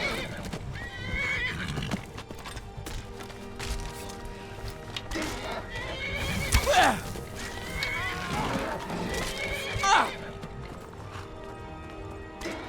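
A horse in the modded Skyrim Special Edition game neighs and whinnies twice amid galloping hoofbeats, with combat sounds and someone talking over it.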